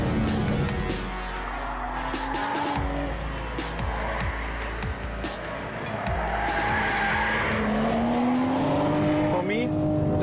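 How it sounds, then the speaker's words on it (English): BMW 4 Series Coupé G22 pushed hard through corners on a track, engine revving up and down with tires squealing and skidding, loud and close, with changing pitch as the car accelerates out of bends. "you steer the car through the corners, not only with the steering wheel, but also with the throttle"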